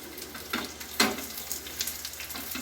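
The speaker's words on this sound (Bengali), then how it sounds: "মোটামুটি এক একটা পিঠ মিনিট পাঁচ সাত করে ভাজতে হবে" Paneer paturi fries in a pan with a steady, soft sizzle and scattered small crackles, close by and without talk.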